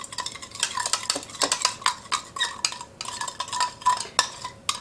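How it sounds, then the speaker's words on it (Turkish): A utensil stirs rock salt into about 60 ml of water to dissolve it for sourdough whole wheat bread dough, with close, continuous scraping and light clinking against the bowl in uneven strokes. "Tuzumu şurada 60 mililitre suyun içerisine koyuyorum. Karıştırarak birazcık eritiyorum."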